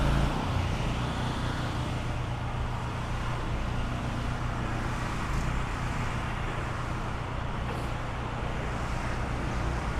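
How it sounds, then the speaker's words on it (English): A car drives along a road in Innisfail, Australia, a steady, fairly loud broadband traffic rumble lasting throughout with some wind noise and no talk. "Oh, the car's got to come."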